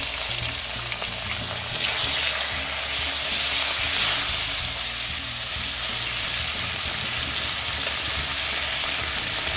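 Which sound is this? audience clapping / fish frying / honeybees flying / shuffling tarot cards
fish frying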